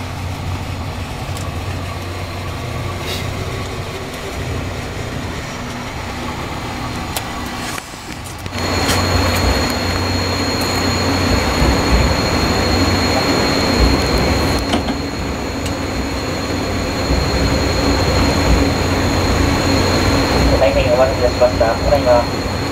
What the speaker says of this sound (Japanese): 稚内から遅れてまいりました特急列車が到着いたしました